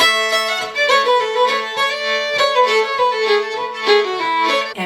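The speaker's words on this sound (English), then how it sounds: "So if you play one note per beat, it would go like this." Fiddle backup for a reel, bowing one note per beat in a steady pulse, each stroke clearly separated, played alone and close with no talking.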